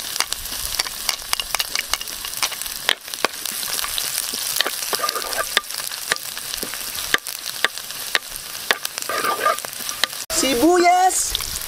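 Ginger and garlic sauté in a hot pan for Filipino tinola, a steady crackling sizzle with scattered sharp pops and stirring clatter, growing louder and busier near the end as more aromatics hit the oil.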